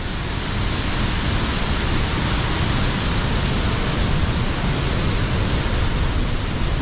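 Nyauli waterfall, a hidden waterfall in Gorkha, pours with a loud, dense, unbroken rush of falling water that stays even from start to finish, heard up close with no voices.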